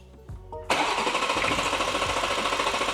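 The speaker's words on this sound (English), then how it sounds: "You should now be able to crank it, but it won't start." A BMW G87 M2 engine cranks without catching after its battery is reconnected, with a few faint clicks and then a loud, steady starter whir that pulses rhythmically and never settles into a running idle.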